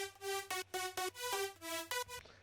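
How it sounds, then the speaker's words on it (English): Dry Avenger synth lead preset with no processing, playing a run of bright, buzzy sustained notes in a choppy rhythm, each note cut short before the next, with no voice over it. "Yeah, this is the Avenger preset."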